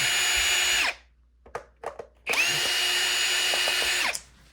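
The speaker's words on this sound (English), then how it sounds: "And now you want to remove your top screws." Top screws come out of a Shark NV501 vacuum as a power drill whines loudly in two sustained bursts. The bursts are separated by a short gap of light clicks and handling noises, close up and with no speech.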